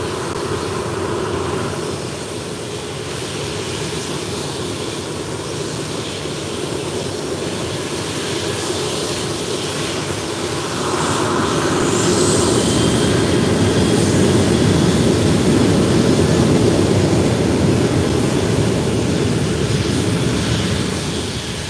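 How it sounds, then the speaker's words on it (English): An Air Europa airliner departs Málaga airport bound for Palma de Mallorca, its steady jet roar heard from a distance at first and then swelling louder and fuller as it climbs away. "There goes Air Europa off to Palma de Mallorca."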